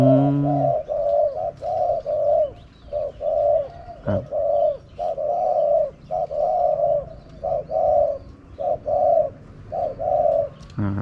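A spotted dove kept as a decoy bird coos in a steady rhythm of short, repeated phrases, close and clear with brief gaps between each call.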